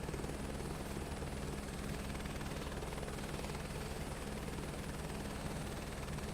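Helicopter rotor and engine in Microsoft Flight Simulator 2024, a steady loud droning thrum with constant rhythmic chop, heard alone without talk.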